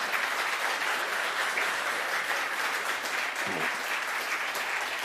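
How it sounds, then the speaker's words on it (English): A steady, full round of audience applause for Lindsay Tanner at a live comedy show, continuous close clapping with no pause across the whole stretch. "please, round of applause for Lindsay Tanner"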